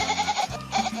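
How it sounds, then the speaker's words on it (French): A cat makes a goat-like bleating cry, two short wavering calls up close and fairly loud, with no talking. "Ou encore ce chat qui s'est pris pour une chèvre."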